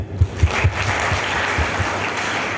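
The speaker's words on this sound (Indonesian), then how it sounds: "Tepuk tangan tuh ini ya" An audience at a Pramuka scout gathering breaks into applause, a few heavy thumps at the start and then a steady, fairly loud wash of clapping, with no speech.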